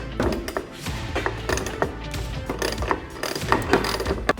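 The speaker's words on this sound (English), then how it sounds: "it's a little bit easier to fit a wrench underneath than using your socket on the top" A wrench tightening bolts on a Vantech H1 ladder rack fitted to a Ford Transit Connect van, with close, rhythmic ratcheting clicks and metallic knocks repeating steadily throughout.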